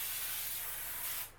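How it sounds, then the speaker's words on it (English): Canola oil cooking spray hisses onto a baking pan in one continuous close burst lasting just over a second, then cuts off, with no talking. "We're gonna spray this real quick"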